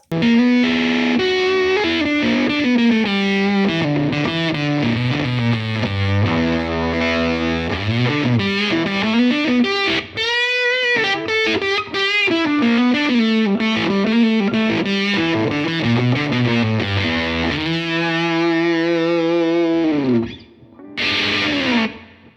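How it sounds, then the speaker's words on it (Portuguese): Distortion preset 8 on a Chase Bliss Automatone MKII preamp pedal: a loud, continuous overdriven guitar passage with sustained chords and melodic bends that plays alone for about twenty seconds before briefly cutting out and returning. "o 8, que também é uma distorção muito bonita"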